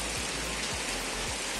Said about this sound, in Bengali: কি সুন্দর এত বৃষ্টি পড়ছে